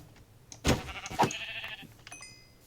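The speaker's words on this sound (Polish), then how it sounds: "O, owca!" A Minecraft sheep bleats in the video game, two short wavering bleats close together near the start, followed by softer game sounds and a few faint high chimes.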